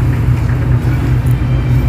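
A coaster van's engine rumbles steadily from inside during a ride, a loud, constant low drone with no break and no voices.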